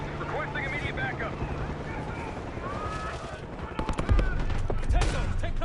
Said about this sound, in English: We've got gunfire to the right.